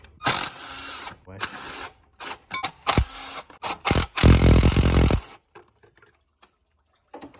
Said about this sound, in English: I usually just like to crack the bolts and then get the little electric impact on it.